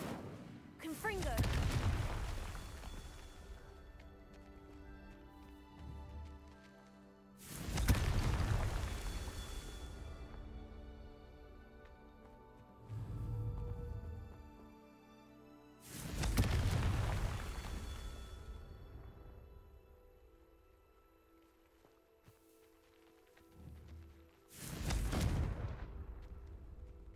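Confringo spell blasts in a Harry Potter video game: four loud, booming explosions several seconds apart, each a sharp burst that rumbles and fades, with quieter game sounds between.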